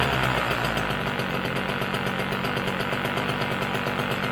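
A cold vintage tiller engine of unknown history idles steadily off choke, a close, continuous rapid chugging with a faint knocking beat throughout, no talking over it.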